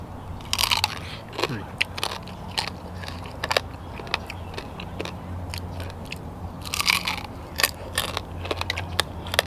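Someone eats a dish of sea crab with seafood dipping sauce and hot sticky rice, with repeated crisp bites and crunches of shell at close range, irregular and sharp against a quiet background.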